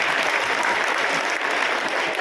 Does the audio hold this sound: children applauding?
yes